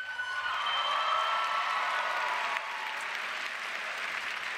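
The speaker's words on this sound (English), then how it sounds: "give yourselves a big round of applause" Graduates at a fall business school commencement ceremony applaud themselves in a large hall, with steady, dense clapping and a few cheers and whoops mixed in.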